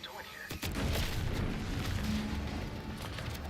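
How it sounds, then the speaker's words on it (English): A deep booming explosion in the video game The Outer Worlds 2 erupts suddenly and loudly, then rolls into a sustained rumbling roar. "An explosion?"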